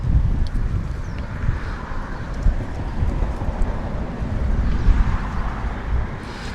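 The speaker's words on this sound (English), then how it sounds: "Whew, it's windy." Steady outdoor wind buffeting the microphone with a loud, low rumbling roar that gusts and swells throughout, no voices.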